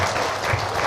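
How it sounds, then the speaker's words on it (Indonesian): A church congregation claps for the prophetic team in a short, dense burst of applause that fills the whole moment. "Bolehkah sama-sama kita beri tepuk tangan untuk tim profetik kita ya"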